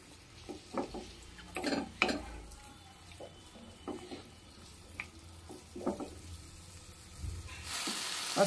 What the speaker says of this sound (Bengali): আস্তে আস্তে টমেটোগুলো নরম হয়ে গেছে। আর একটু কষাবো।